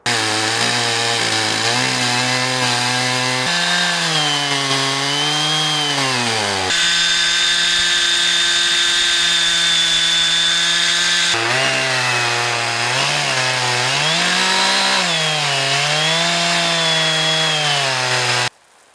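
Chainsaw on an Alaskan mill slicing a mesquite log into four-inch boards, a loud continuous engine snarl with rising and falling pitch as the throttle varies, running almost without pause.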